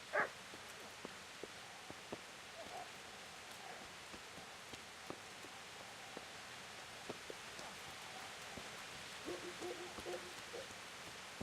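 Dogs barking in the medieval video game Kingdom Come Deliverance, a few short, faint yaps scattered over steady rain, distant and low in the mix with no talk.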